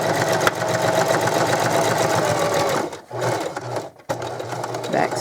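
Sewing machine stitching fabric for a child's crayon roll, running steadily and loudly for about three seconds, then pausing briefly twice before starting up again, with no talk over it.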